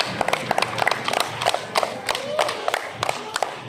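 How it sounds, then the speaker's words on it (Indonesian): Group 2 gets applause: scattered, uneven clapping from a small group, sharp close hand claps in an irregular rhythm lasting a few seconds. "Tepuk tangan untuk kelompok 2."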